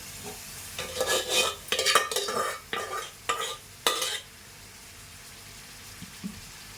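Cabbage tipped into a pan of softened tomato curry with ginger-onion paste, then stirred: a run of loud, close scraping and sizzling bursts over about four seconds, followed by quiet.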